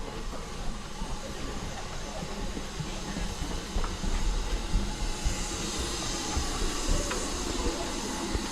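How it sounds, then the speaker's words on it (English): A steam locomotive on the Swanage Railway hisses continuously, a loud broadband rush of steam with low rumbling beneath it, steady throughout with slight swells, heard close by outdoors. "this is the steamer that's working today"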